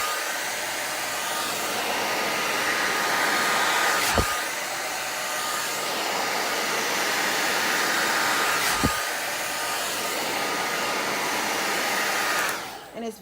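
A handheld hair dryer blows steadily and loudly on hair being dried from root to end, a continuous close whoosh lasting throughout, with two brief sharp clicks partway and the airflow cutting off at the end.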